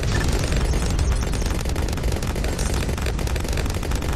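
Rapid, dense firing from the Spectre tower in Bloons TD 6, a continuous loud barrage of gunfire-like bursts and explosions layered together with no pauses throughout.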